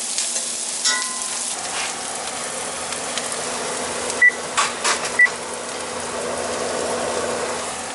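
Onions fry in a pan with a steady, even sizzle throughout, broken by a few brief clicks and knocks of a utensil partway through.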